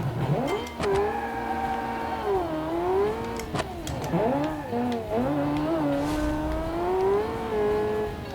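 The TS180, a peppy car in the Automation racing sim, is driven around a test track: the engine revs up and down repeatedly with gear-like pitch swoops and a few sharp clicks, close and steady throughout.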